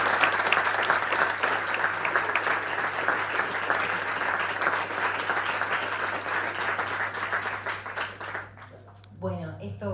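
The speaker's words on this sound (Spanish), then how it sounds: "un fuerte aplauso" A cinema audience applauds director Gustavo Taretto after a screening of Medianeras, with sustained, dense clapping that drops away near the end as a voice begins speaking.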